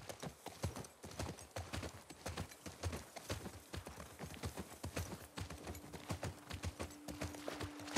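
Horse hooves clip-clop in a steady, brisk rhythm on a hard surface in the video game The Last of Us Part II, continuous and fairly close, with no speech.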